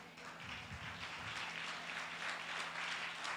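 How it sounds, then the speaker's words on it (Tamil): A congregation at a Tamil promise worship service claps steadily and faintly throughout, a soft continuous patter heard at some distance, with a faint voice low beneath it. "கைத்தட்டு."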